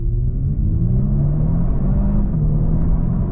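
Kia, Hyundai or Genesis car launching hard with launch control during a drag race, a loud, steady engine rumble with rising pitch as it accelerates, heard from inside the cabin.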